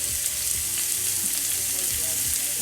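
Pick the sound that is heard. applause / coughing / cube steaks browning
cube steaks browning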